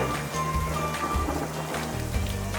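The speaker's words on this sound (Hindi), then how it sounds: "बहुत तेज बारिश आ गई।" Heavy rain pours steadily at a jungle resort in Pench, a dense continuous wash of drops on surfaces that stays loud and even throughout, with no voices over it.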